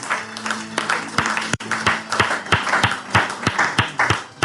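A church congregation at a worship service claps in a steady, loud rhythm of sharp, evenly spaced hand claps. The clapping continues without a break, with a murmur of voices and cheering mixed in underneath.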